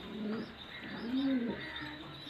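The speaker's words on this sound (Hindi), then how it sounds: "कबूतर अपनी ड्यूटी कर रहा है" On a Pakistani pigeon farm, a male pigeon feeds its chick, making soft, steady cooing with thin chirps and a few longer tonal calls, close by and continuous.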